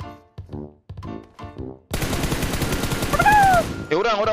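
Automatic gunfire in a video game bursts in after some quiet game sounds, a loud, dense rattle of rapid shots lasting a couple of seconds, with people talking over it.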